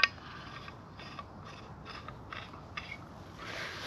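A telescopic rod being screwed onto a survival multi-purpose spade, with soft repeated clicking and scraping thread sounds, quiet and close, in short bursts.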